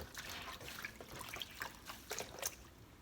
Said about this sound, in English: I just place them in the water, let them soak up the water.